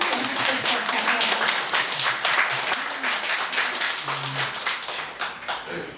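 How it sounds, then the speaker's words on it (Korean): Congregation applauding during a Sunday morning church service, a steady wash of many hands clapping that holds for several seconds with no voices. "박수 한번 쳐주는데 그래요."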